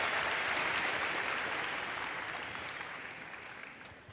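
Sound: audience applause at Minecraft costume contest

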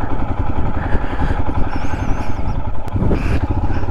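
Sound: motorcycle riding on rough mountain road

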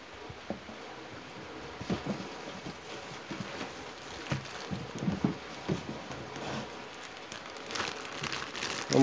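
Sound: paper crinkling while unpacking a Makita chainsaw

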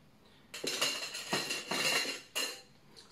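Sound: ice scoops added to a drink

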